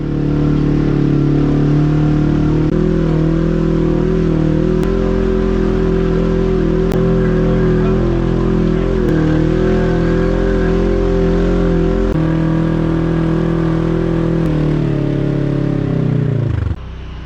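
An off-road vehicle engine revs hard and steadily while climbing a steep hill, a loud sustained drone with small shifts in pitch that cuts off abruptly at the end.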